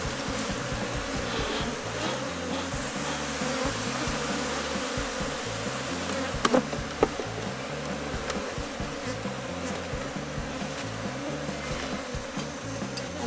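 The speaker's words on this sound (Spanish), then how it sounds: "Vamos a vaciar las abejas." A dense swarm of honeybees buzzes loudly and continuously close by as they are shaken off a hive frame during a hive split, with a couple of brief knocks partway through.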